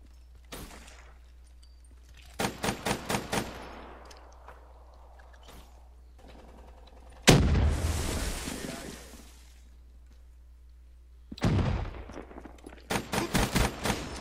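Gunfire from a weapon in the Black Ops 3 beta, heard as bursts of rapid automatic shots separated by pauses, with a louder blast and rushing noise in the middle.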